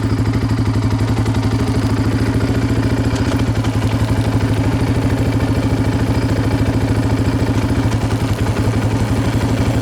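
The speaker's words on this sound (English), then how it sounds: "So I'm just going to let it idle in third gear." Yamaha Raptor 700R ATV engine idling in third gear, a loud, close, steady, rapid thumping idle with a slight mechanical clatter, continuous and with no talking.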